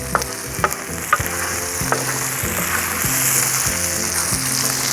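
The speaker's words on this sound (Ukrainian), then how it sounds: "Часто помішуємо, щоб нічого не підгоріло." Vegetables for ajapsandali, with onion and pepper, sizzle steadily in a frying pan while a spoon stirs them in irregular scraping strokes, close and fairly loud, with no talking.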